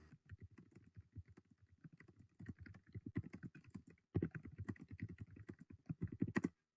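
Steady, fast typing on a computer keyboard, close and crisp, with a brief pause partway through before the rapid keystrokes resume.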